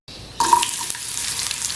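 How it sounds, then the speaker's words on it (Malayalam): Finely chopped shallots drop into hot coconut oil with mustard seeds for a Kerala spinach-and-dal curry, setting off a sudden close sizzle that keeps hissing steadily for a moment. "ചെറുതായിട്ട് അരിഞ്ഞെടുത്ത ചെറിയ ഉള്ളി ആഡ് ചെയ്ത് കൊടുക്കാം."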